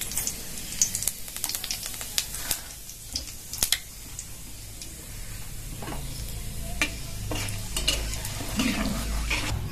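Dry red chili, bay leaf and whole cumin seeds sizzle in hot oil in a home kitchen after cauliflower has been fried, with spoon stirring, pan scrapes and clinks, close up and with no talking.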